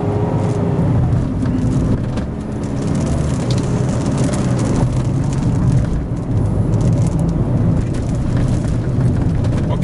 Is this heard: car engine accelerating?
yes